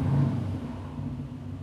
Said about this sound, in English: why don't we actually turn the car on and just get some revs going